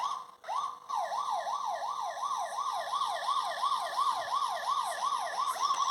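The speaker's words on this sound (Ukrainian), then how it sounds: "Зараз послухаємо сирену." A Bruder toy fire station siren wails in a rapid, steady electronic up-and-down warble, thin and tinny, repeating without pause.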